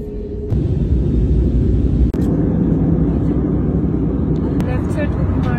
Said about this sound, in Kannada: ಈಗ ಫ್ಲೈಟ್ ಟೇಕ್ ಆಫ್ ಆಗ್ತದೆ.